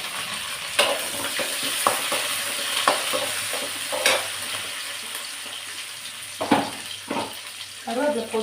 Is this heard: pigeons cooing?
no